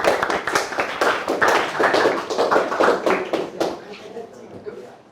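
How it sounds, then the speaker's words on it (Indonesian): Applause from a classroom group after a presentation, a burst of close hand clapping that runs for a few seconds and then thins out and fades, with a voice speaking over part of it. "berikan aplaus ya"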